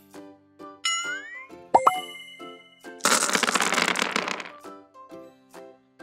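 A red toy container is opened to reveal balls inside, with a few sharp plastic pops and clacks followed by a loud, dense rattle of balls tumbling for over a second, then scattered light knocks.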